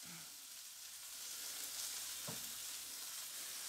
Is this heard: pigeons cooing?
no